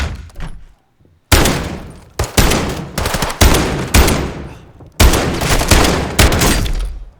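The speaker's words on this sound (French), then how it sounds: "Oh, le fusil à pompe il est fort." Shotgun blasts fire in a Call of Duty MW2 campaign battle, loud and close, a series of heavy booming shots with decaying tails, separated by a short silent gap near the start.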